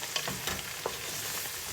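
Chanakhi sizzles in a hot pan while a utensil stirs in two spoons of flour, with a few soft scraping strokes over a steady frying hiss.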